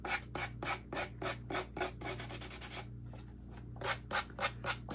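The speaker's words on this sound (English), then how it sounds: "I'm just sanding downward" Hand sanding along the edge of a shabby-chic bird frame craft piece decorated with molds and journal papers, a rhythmic series of close, steady rasping strokes with a brief pause midway, no talking.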